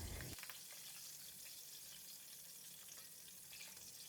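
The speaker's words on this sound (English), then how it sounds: "In the same pan with hot oil, put in 3 stems of curry leaves and fry them for about 20 seconds." Curry leaves frying in hot oil in a pan, a faint, continuous crackling sizzle that follows a brief louder burst at the start.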